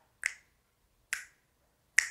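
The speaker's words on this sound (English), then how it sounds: "Snap." A group snaps their fingers in unison three times, crisp bright clicks spaced roughly a second apart with quiet between.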